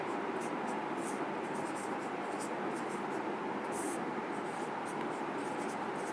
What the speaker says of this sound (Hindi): अब हम लिख देंगे त्रिभुज ABC में